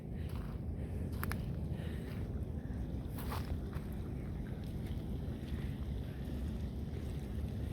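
Flash flood water in Quartzsite rushing and starting to flow faster, a steady broadband roar of moving water with wind buffeting the microphone throughout, and no speech.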